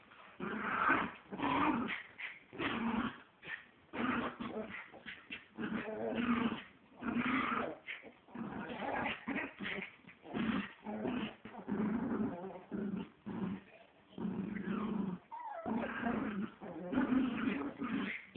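A rat terrier and a chihuahua growl and snarl at each other in bursts of rough, close growls mixed with yips and whimpers, continuous and moderately loud.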